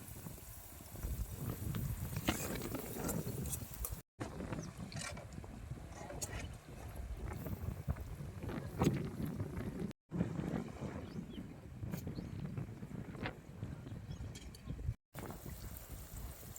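Strong wind buffets a riverside camp beside a cooking stove, making a continuous, loud, low rumble with gusty surges that run almost the whole time, broken only by a few brief cutouts.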